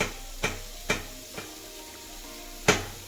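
Goat tripe (boti) frying in hot oil gives a soft steady sizzle, cut by four sharp clatters of a utensil striking the pan, spaced irregularly over a few seconds.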